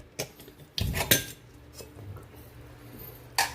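Metal utensils knocking and scraping inside a cooking pot while checking pork ribs for tenderness, a few sharp clanks and clinks spread over a few seconds, close by with no talk.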